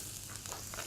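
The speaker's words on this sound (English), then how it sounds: "Hot oil, again frying." Vegetables frying in hot oil while stuffed peppers are prepared, a steady close sizzle running evenly through the short stretch with no talk over it.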